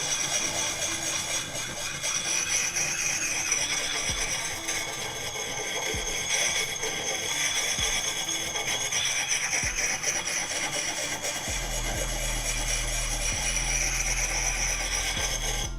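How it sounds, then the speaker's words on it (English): An axe edge is drawn across the coarse side of a sharpener in a continuous gritty rasping that goes on without a break, with a few soft knocks and a low rumble near the end. "pretty aggressive on the edge there at the coarse side"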